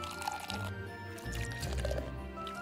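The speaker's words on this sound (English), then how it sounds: "Go ahead and pour some water." Water being poured in the tavern-management game Travellers Rest, a short liquid fill with drips and squishy gurgles over game music, fairly quiet.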